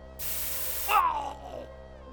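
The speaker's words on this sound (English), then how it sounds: "I aimed it at his face and squeezed the red button, sending a stream of pepper spray down his throat." Pepper spray bursts from a mace bottle in a single sharp, close hiss lasting under a second, followed by a brief strained gurgling sound.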